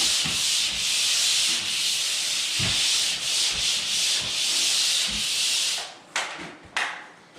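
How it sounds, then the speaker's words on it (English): Drywall joint edges are hand sanded with steady, close abrasive strokes, a rhythmic scratchy rubbing that continues, then breaks into a few short separate passes near the end. "now I just want to sand just enough on the edges to just take that edge off"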